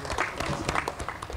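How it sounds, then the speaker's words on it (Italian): A brief burst of audience applause at a Pesaro neighbourhood event, clapping for a barber in the crowd. The clapping is close and busy, with crowd noise mixed in. "fatemi un applauso"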